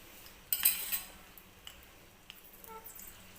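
A metal spoon stirs a chili tadka in a pan with the gas turned off: a sharp clink and scrape near the start, then a few faint light taps and ticks over a quiet background.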